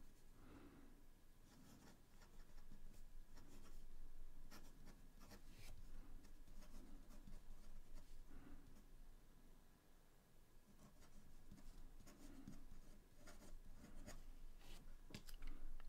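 Soft, scratchy fountain pen strokes on paper from a medium nib, steady and close but faint, with brief pauses and light rustling between strokes.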